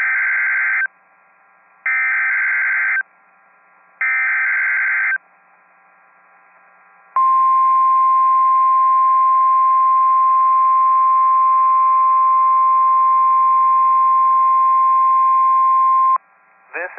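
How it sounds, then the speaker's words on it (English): NOAA weather radio attention signal during a statewide tornado drill: three loud, evenly spaced bursts of a harsh two-tone alert, then a long steady single warning tone lasting about nine seconds before cutting off. "The attention signals you just heard will automatically activate special receivers to warn of an impending hazard."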